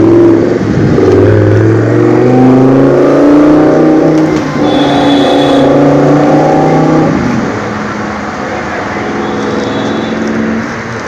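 An Audi R8 sports car engine revs loudly on a Mumbai street, a deep rising and falling roar that holds steady before easing off, close and dominant, with no talking.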